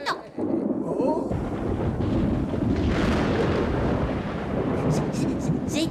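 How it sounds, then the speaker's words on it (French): A thunderstorm rolls through an animated French film scene, a loud, continuous deep rumble of thunder filling the whole stretch without a break. "J'ai peur de l'orage, grand-mère."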